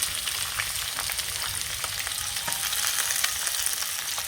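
Onion and spices fry in hot oil with a steady, close sizzle, while a spoon stirs them now and then with faint scraping clicks. No one speaks.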